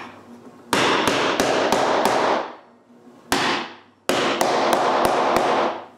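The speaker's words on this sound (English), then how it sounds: "Then I can pound the bearing into place." Hammer pounding a bearing into a plywood wheel in a woodworking shop: a rapid run of five sharp strikes, a single blow after a pause, then another quick burst of five, loud and close with ringing decay.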